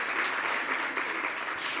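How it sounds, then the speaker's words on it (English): A celebration audience claps for a man walking up to the stage, a short, steady burst of dense applause from many hands with no voices over it. "Let's give Mr. Mohotu a round of applause as he comes up"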